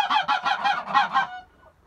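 Geese near a brooding nest honking in a quick run of about six loud, nasal calls close by, then falling quiet.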